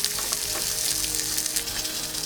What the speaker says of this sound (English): we're gonna sear it for another 2 minutes